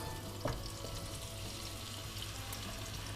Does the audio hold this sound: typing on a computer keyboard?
no